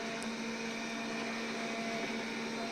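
A MOVA robot vacuum cleaner runs indoors with a steady, even motor whir and hum that holds constant throughout, close and alone with no voices.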